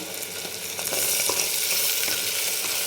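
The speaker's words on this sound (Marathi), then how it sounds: "तर आपल्याला छान आता हे दोन वेळेस चांगलं परतून घेतलं" Mutton with fat and turmeric sautéing in a pan, a loud continuous close sizzle that swells after the first second with faint scraping underneath, no voice.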